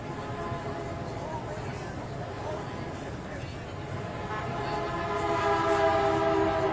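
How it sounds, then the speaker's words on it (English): A train rumbles past in a Veterans Day parade with a steady drone and tonal horn-like whine that grows louder toward the end, while a crowd murmurs in the background. "And for train fans, there's a train."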